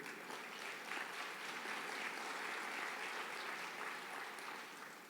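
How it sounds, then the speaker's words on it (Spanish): A church congregation applauds steadily, a dense, even wash of many hands clapping at once, moderately distant and sustained throughout without talk over it. "Denle un fuerte aplauso al Señor."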